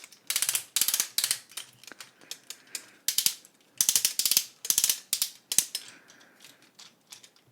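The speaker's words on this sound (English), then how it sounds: "Very strong ratchets on the legs there." Strong ratchet joints in the legs of a KO Transformers Premium Series APS-01 Striker Optimus Prime toy click in quick, crisp bursts, close and loud, with short pauses between each run of clicks.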